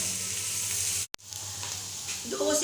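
Vegetables sizzling and frying in a pan for a chicken fried spaghetti dish, a steady close hiss briefly cut off and resuming, with a stirring clatter near the end.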